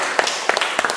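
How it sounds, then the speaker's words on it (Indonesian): A short burst of scattered clapping from a class at a teacher-training session, a few sharp hand claps over a noisy room, brief and moderately loud. "Silakan kita aplaus"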